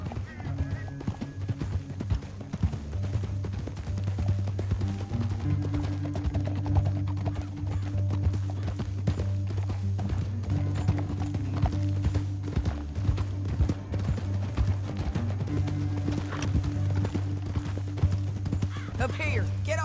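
Horse hooves pound in a steady galloping clip-clop in Red Dead Redemption 2, joined by an occasional whinny, running continuously under game music and character dialogue.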